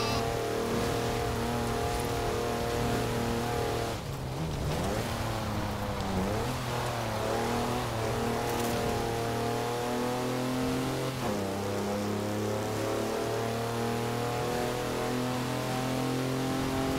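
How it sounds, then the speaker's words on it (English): A car engine in the racing video game Forza Horizon 4 drones steadily with strong harmonic tones, its pitch shifting as it revs up and down, loud and continuous with no talking. "Listening to this car, the way it sounds"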